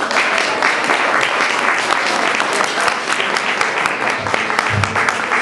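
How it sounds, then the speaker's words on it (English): Enthusiastic applause for children who modeled at a Montessori school fundraiser, a loud continuous wash of clapping from an audience lasting several seconds without letting up. "Can we have one more round of applause for the kids?"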